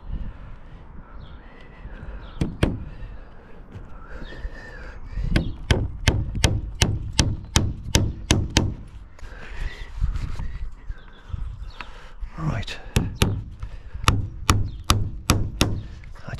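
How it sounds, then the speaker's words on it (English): Hammer strikes nailing wooden laths onto a roof over felt, a sharp, loud series of rapid blows in bursts, then pauses of rustling handling noise before another run of strikes. "it's quite nice to get the hammer out occasionally"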